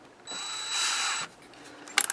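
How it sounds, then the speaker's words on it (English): A right angle drill whirs briefly as it bores through carpet into wood inside a class A motorhome. The motor rises and runs for about a second, then stops, followed by a few small clicks and taps. "And when you're drilling through a carpet"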